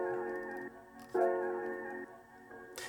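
A beat intro built in Studio One 5 from a melodic sample layered with a sustained pad, playing alone with steady harmonic tones that drop out briefly and return fuller, ending with a bright burst at the very end.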